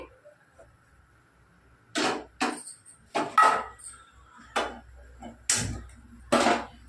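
Cookware clatters onto a kitchen stove while chukka chicken masala is being cooked, with several sharp metallic knocks and scrapes spaced apart in an otherwise quiet room.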